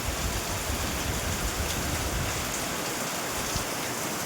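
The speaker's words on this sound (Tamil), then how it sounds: "நல்ல மழை, ரொம்ப வானம்லாம் இருட்டி அப்படியே இருக்குது." Heavy rain pours outside a window under a dark sky, a dense, loud, continuous wash of drops drumming on surfaces with no break or voices.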